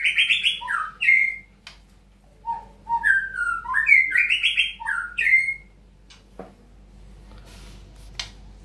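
An oriental magpie robin sings loud, close whistled phrases, rising and falling melodic notes in quick bursts, followed by a few softer chirps and quiet.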